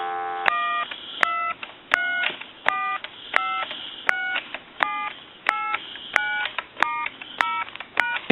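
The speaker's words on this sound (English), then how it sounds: "I'm going to go ahead and dial our numbers" Touch-tone dialing on an original Spirit of St. Louis telephone: a steady run of about a dozen short, clean dual-tone beeps at an even, brisk rhythm, close and clear with no talking.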